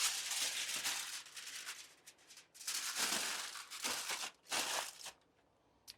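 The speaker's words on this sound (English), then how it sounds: "Loosely foil this" Loose aluminum foil crinkles and rustles over a resting tri tip beside a wood-fired Gozney Dome oven, in several close bursts of crackly handling separated by brief pauses.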